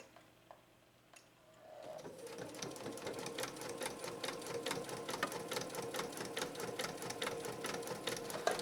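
A Janome 3160 QDC sewing machine stitches through fabric with automatic presser foot pressure, a steady rapid mechanical clatter starting after a quiet moment and running continuously, close and fairly loud.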